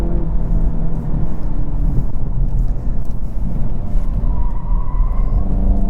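A 2022 VW Golf GTI S Mk8 on all-season tires drives and accelerates hard, with a steady loud low engine and road rumble plus wind noise throughout and no one talking.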